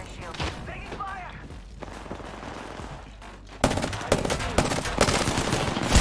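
Rapid bursts of gunfire in the Apex Legends battle royale game, with sharp shots that grow denser and louder partway through, under a player's voice.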